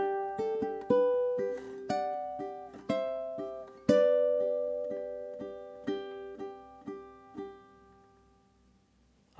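Ukulele plays the opening two measures of a gentle, Disney-inspired tune, a clear run of plucked notes and chords with several distinct attacks that ring and slowly fade, played alone without any voice.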